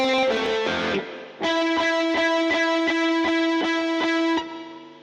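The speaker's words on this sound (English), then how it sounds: "we could hear there that it still had a long reverb tail, but the reflections that we were simulating were much closer" Reverb set to a smaller room size but with a long tail on a distorted synth or guitar line, loud sustained chords with rhythmic stabs ringing out and decaying smoothly.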